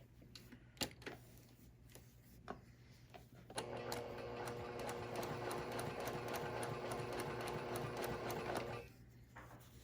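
A sewing machine top stitches across a small prototype shopping bag, running in one steady, continuous whir for about five seconds after a few soft handling clicks, then stopping.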